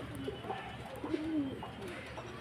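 A lone male Andhra pigeon, held by himself in a cage, coos quietly in a few low, wavering phrases over faint background noise.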